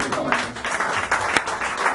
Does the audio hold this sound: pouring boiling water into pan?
no